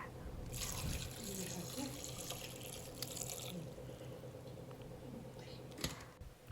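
Water is poured into a pressure cooker holding vegetables and salt, giving a steady close splashing and trickling flow that lasts nearly the whole stretch.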